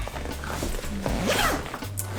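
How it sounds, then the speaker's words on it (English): Zipper on a large bag pouch with a Mickey and Minnie zipper pull, on a JuJuBe Be Zealous bag, pulled open in one close, continuous raspy run lasting about two seconds. "And now we're going into this big pouch, and this big pouch has a Mickey and Minnie zipper pull."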